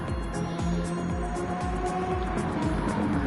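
Number 64 Aston Martin race car at the 24 Hours of Le Mans, engine droning steadily and loudly with repeated rising gear-change sweeps as it accelerates away at night.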